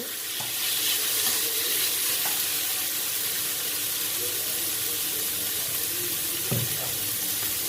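Leftover liver and beef being stir-fried with holy basil and chillies for pad krapao, a loud close continuous sizzle with occasional spatula knocks against the pan.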